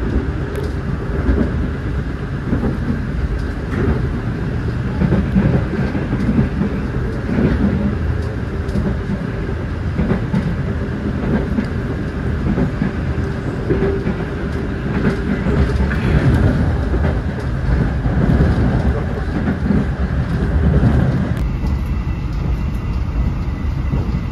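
Stainless steel economy train KA Bogowonto running straight through Purupuk station, a steady loud rumble of wheels and carriage noise throughout with faint rhythmic rail clatter and a slight change in tone near the end.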